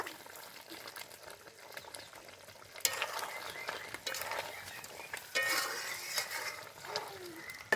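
A spoon scrapes and stirs through sizzling chicken biryani in a pan, with bursts of frying crackle and scraping at close range.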